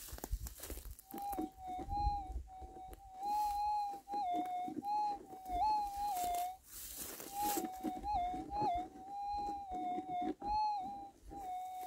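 A thin, wavering electronic tone from a metal detector over gold-bearing ground chirps on and off in short repeated bursts, warbling in pitch over faint scratching and rustling as a pick scrapes the soil.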